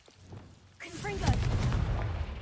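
A Confringo fire spell bursts in Hogwarts Legacy, a sudden booming blast with crackling sizzle that swells and lingers for over a second, mixed with spoken voice in the background.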